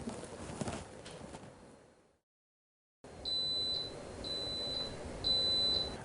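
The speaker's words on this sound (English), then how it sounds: "the timer's finished" A Waring soup maker's timer beeps in a short series of clear, high electronic tones, evenly spaced and close by, following a brief silence.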